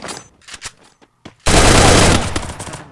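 A loud automatic burst of video game gunfire erupts after a few quiet clicks and taps, then roars on continuously for over a second before easing off, with no voices over it.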